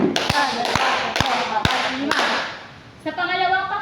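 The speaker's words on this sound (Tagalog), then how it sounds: "Maaari bang bigyan ng 5 palakpak ang unang pangkat?" A group in a classroom gives five sharp, evenly spaced claps for the first team during a Filipino civics lesson, loud and close, followed by a voice speaking.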